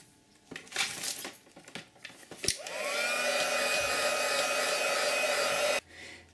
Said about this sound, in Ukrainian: ми просушимо виштамповані зображення феном